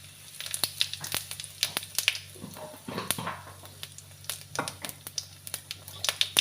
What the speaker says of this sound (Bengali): এবার এই তেলের উপরই আমি ফোড়ন দিয়ে দেবো জিরে আর লঙ্কা।